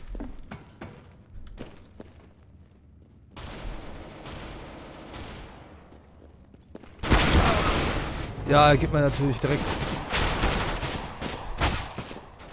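Gunfire in Counter-Strike: Global Offensive, scattered single shots followed by a loud dense burst of rapid fire, with someone talking over parts of it.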